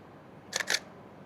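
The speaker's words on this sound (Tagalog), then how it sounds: "Minsan nakakamiss din yung tunog ng shutter ng mga DSLR." Two quick crisp clicks of a DSLR camera shutter, mirror slap and close, sounding clearly against a quiet background.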